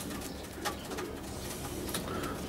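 Pigeons coo softly in a breeding loft, low rolling calls overlapping amid a busy background of rustling and wing movement, no one talking.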